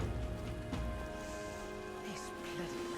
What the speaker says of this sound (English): This bloody rain.